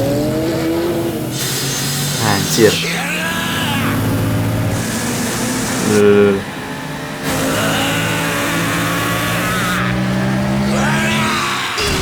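Motorcycle engine revving in the video game Yakuza 0, a loud, continuous drone with rising and falling pitch sweeps under game music, with someone talking over it.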